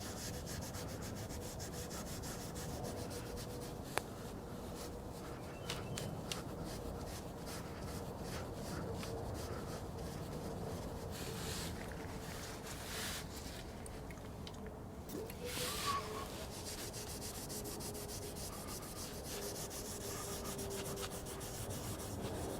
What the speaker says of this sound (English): We're just going to try to get the loose pieces of this wax coating off of here.